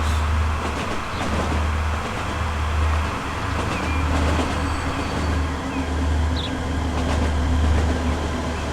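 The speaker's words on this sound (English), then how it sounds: "This is where our freight train goes." A freight train in Transport Fever 2 rumbles steadily along the track, with a continuous low engine drone and rolling noise throughout and no talking.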